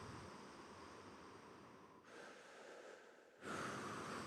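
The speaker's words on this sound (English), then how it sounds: "So this is me breathing." Recorded human breathing used in a music composition, slow airy inhales and exhales in long sustained swells, the second and third breaths stronger, heard alone in a close, hushed recording.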